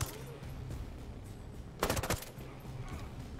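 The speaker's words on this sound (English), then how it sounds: "Just hear gunfire." Gunfire in an online video game with a cover system, a short burst of rapid shots in the middle over a low background rumble, fairly distant and brief.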